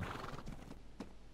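Horses run in a pack in the game ARK Survival, giving a short, faint run of hoof clip-clops with a brief whinny-like accent.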